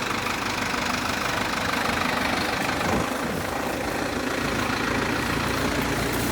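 A large diesel engine rumbles steadily at close range, a constant low chugging idle with no voices.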